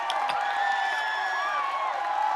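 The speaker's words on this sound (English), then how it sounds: "They cheer for you every time they see you." A steady wash of crowd noise fills the space, cheering and shouting for Zach Evans with scattered claps mixed in, sustained and fairly loud throughout with whistles or raised voices rising above it.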